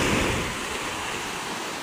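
Big sea waves ahead of a typhoon surge in a broad, steady wash of surf noise, loud and continuous with wind mixed in.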